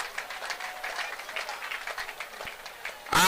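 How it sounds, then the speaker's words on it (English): Applause from the audience at the Prosperity Cup football final, a fairly quiet, steady patter of clapping for the sponsor Premium Trust Bank, heard alone and ending in a brief loud burst. "Please a round of applause for them."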